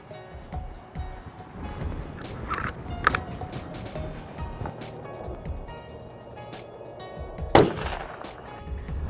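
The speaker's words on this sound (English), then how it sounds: "We're going to send one down range." Rifle shot fired downrange with a 115-grain Lehigh Controlled Chaos copper bullet at an outdoor range, with a single sharp loud crack standing out from quieter outdoor background, plus a fainter earlier report.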